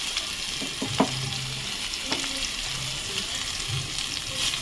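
Crushed ginger and bay leaf frying in ghee with spices, a steady close sizzle with a few light stirring clinks, no talk.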